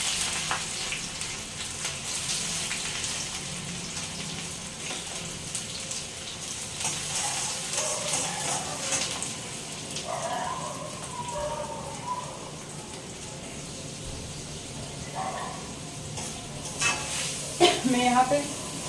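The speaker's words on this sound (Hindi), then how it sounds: "अभी प्याज डाल देंगे।" Onion frying in hot oil with cumin seeds and chilies, a steady soft sizzle at moderate distance, with someone talking over it intermittently.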